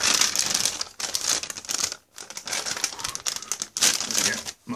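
Plastic MRE ration pouch for beef ravioli in meat sauce being torn open up close, loud crinkling and ripping in several bursts separated by brief pauses.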